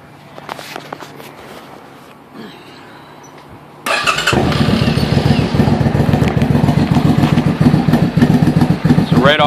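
A Suzuki VS800 Intruder with a drilled-out exhaust baffle starts after a few seconds of quiet shuffling, then settles into a loud, deep, lumpy idle with a rapid, uneven pulsing throb close to the bike.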